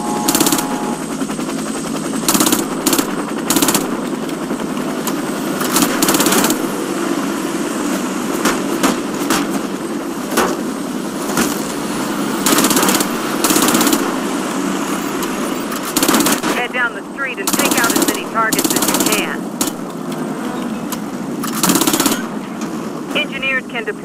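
Bursts of submachine gun fire in the shooter game Warface during engineer training on a street, with rapid repeated volleys of shots alternating with brief pauses, loud and close, mixed with game sounds and a voice talking.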